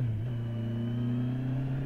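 A 2018 Kawasaki Z900 motorcycle engine idles while warming up, a steady low hum with a faint rise in pitch near the start, running alone without speech.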